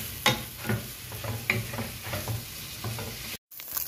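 Ground meat sautéing in a pan for Filipino-style spaghetti, a close, steady sizzle broken by scraping spatula stirs and clinks, with no talk.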